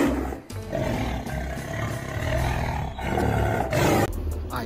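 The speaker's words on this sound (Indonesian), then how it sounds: "Ternyata ini adalah harimau teman-teman." Sumatran tiger roar from a toy animal truck, a loud sustained growling roar that rumbles on without pause for several seconds, with no talk over it.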